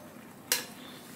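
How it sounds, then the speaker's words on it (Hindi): A spoon scrapes and knocks once against a pot of masala kalaji, a short, sharp clink right in the middle of an otherwise quiet kitchen. "हम इसको चमचा चलाते हैं"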